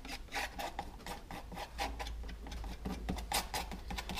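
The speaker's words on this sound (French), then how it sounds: "on va commencer tout notre travail de nuance à la spatule" A palette knife scrapes and spreads thick oil paint, making a run of short rasping strokes in an uneven rhythm, close and fairly loud.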